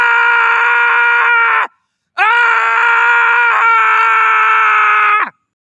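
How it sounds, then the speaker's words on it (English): A person screams in two long, loud, sustained tones separated by a brief silence, each held steady and then cut off abruptly. "Scream into the endless void again"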